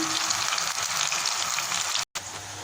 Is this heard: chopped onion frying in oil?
yes